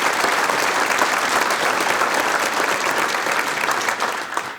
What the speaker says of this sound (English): can we just give a round of applause for that?